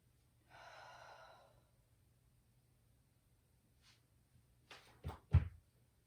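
During a Pilates mat exercise, one long audible exhale is followed after a quiet pause by a few quick, sharp nasal breaths and snorts, close and fairly soft.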